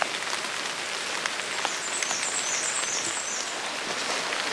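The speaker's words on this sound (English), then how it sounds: "It's starting to lightly rain." Light rain falling in a Georgia woodland during a turkey hunt, a soft, steady patter and hiss of drops on leaves and surfaces, with faint bird calls in the background.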